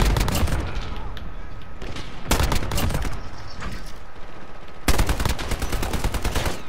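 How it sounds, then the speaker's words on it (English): Rapid gunfire from the Modern Warfare video game, sustained bursts of close automatic fire with heavier volleys breaking in, loud and dense throughout with no talk over it. "Yeah, I see you shooting me."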